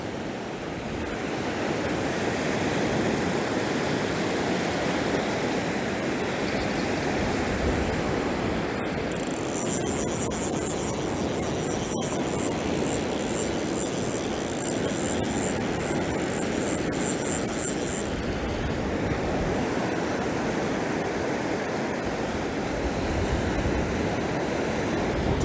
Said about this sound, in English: As the wind's blowing up, it's just pushing that water right up.